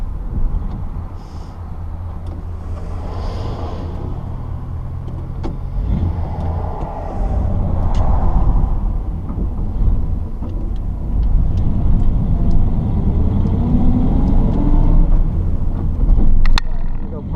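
A 1951 Ford Deluxe 2-door Tudor sedan on the road, heard from inside as a continuous low engine drone with road rumble and wind, swelling at times as it accelerates, with some talk in the cabin.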